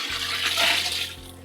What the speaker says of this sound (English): This is 2 quarts of water going in